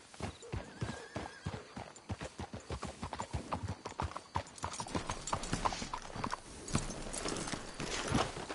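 Horses' hooves clip-clop in a rapid, steady rhythm in the Red Dead Redemption 2 video game, with a horse whinnying partway through as the hoofbeats continue close and clear.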